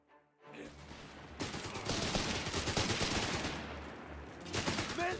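Dense, continuous small-arms and machine-gun fire from a Company of Heroes 3 match, with overlapping bursts and volleys roaring steadily throughout, briefly easing before swelling again.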